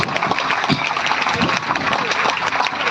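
Crowd clapping vigorously at an outdoor rally or gathering, a loud continuous roar of many hands with scattered sharper claps and some voices mixed in.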